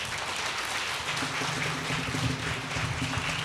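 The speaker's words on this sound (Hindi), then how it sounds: "आप जोरदार ताली के लिए बजा सकते हैं" A church congregation at a Good Friday service applauds a children's presentation, a steady dense wash of clapping filling the room without speech.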